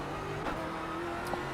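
A Ford Mustang GT4 race car in the iRacing simulator drones under power, its engine note steady and fairly loud, pulling hard out of a corner at Summit Point with no voices over it.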